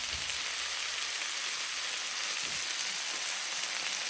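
Butter sizzling on a hot cooking surface while boneless chicken leg is smoked over madrone, a steady dense hiss and crackle throughout with no talk.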